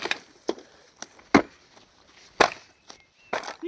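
Wood being chopped: sharp, close axe strikes land at irregular intervals, about six blows over a few seconds, with quiet pauses between them.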